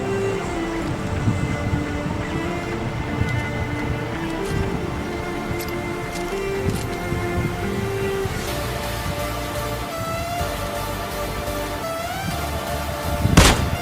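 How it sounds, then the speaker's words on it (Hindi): Rapid M16 rifle fire in a shooter video game on an apartment rooftop, sharp bursts of shots recurring throughout amid a dense game soundscape, with a louder burst near the end. "अब अपार्टमेंट के छत पे मुझे एक और बंदा दिखता है, जिसको मैं M16 से नॉक कर देता हूँ।"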